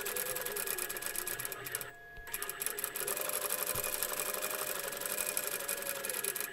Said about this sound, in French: N'oubliez pas de faire une marche arrière, bien entendu, en début et en fin de couture, comme habituellement.